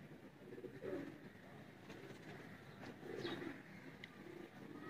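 Dub-tailed pigeons on a rooftop coo softly and faintly, two or three low throaty coos spaced a couple of seconds apart over a quiet background hum.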